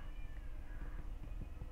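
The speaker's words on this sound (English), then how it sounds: "the cats are going crazy outside." Cats yowl outside in drawn-out, wavering cries, faint and somewhat distant, over a low background rumble with no speech.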